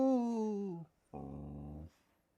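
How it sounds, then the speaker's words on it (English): A pet dog gives a long tonal growl-whine that slides downward, then after a short pause a second buzzy, sustained growl, both close and fairly loud with silence between. "He's a good doggy."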